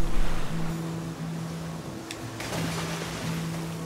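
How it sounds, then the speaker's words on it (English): River rapids in the video game The Flame in the Flood: a steady, full wash of rushing water that holds throughout, with faint sustained tones underneath. "the rapids are getting a lot more dangerous"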